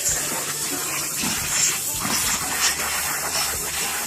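A Portland 1750 PSI electric pressure washer sprays water in a steady, close, loud hiss with a high whining edge, continuous and without pauses throughout.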